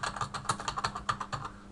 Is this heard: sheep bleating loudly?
no